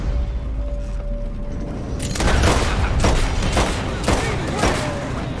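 Gunfire in the western video game Red Dead Redemption 2: after a quieter start, a rapid burst of loud, sharp shots rings out in quick succession, with brief voices mixed in.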